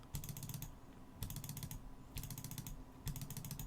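Fast mouse clicking in Minecraft to swing a rapier, four rapid bursts of crisp, close clicks in an even rhythm with short pauses between them, over a low steady hum.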